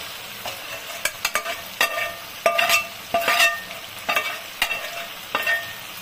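Chicken pieces frying in butter and oil in a pan, steady sizzling broken by repeated sharp scraping stirs at irregular intervals, close and fairly loud.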